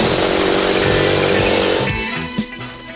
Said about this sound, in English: It's going to drill a hole now so the cable can go through.